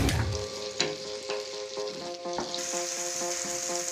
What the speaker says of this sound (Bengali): এবার আমরা টমেটো কুচিগুলো দিয়ে দিচ্ছি টমেটোগুলো কিউব কিউব করে কেটে নিয়েছি